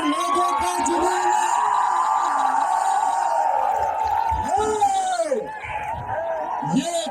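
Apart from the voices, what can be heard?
crowd of students cheering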